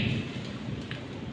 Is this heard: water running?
no